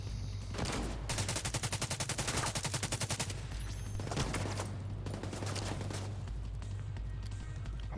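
A deployed turret fires automatic gunfire during a firefight in The Division 2, with rapid, loud bursts of evenly spaced shots broken by short gaps and overlapping game sounds.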